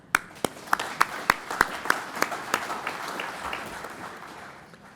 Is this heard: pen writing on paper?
no